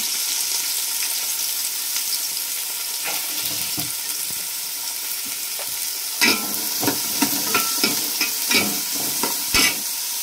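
Sliced onions and green chillies frying in hot oil in a pan, a steady sizzle that turns busy after a few seconds with repeated scraping stir strokes and clinks from the spoon, close and fairly loud.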